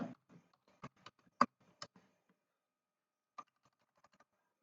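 Typing on a computer keyboard while entering text into MS Word, a few sharp separate key presses including an Enter key strike, quiet and close, with pauses between them and no talking.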